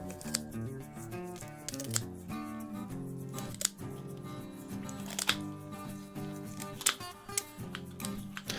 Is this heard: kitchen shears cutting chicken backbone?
yes